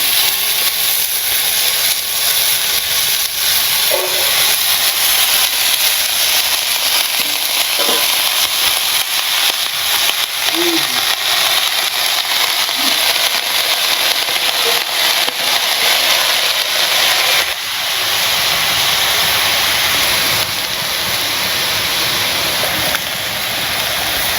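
Vegetables and meat skin fry in a pan with a loud, steady sizzle and hiss close by, broken by a few small pops and spits.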